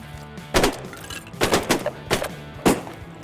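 Shotguns fire during a duck hunt in Louisiana, five sharp blasts in an uneven volley, loud and close, with no talking.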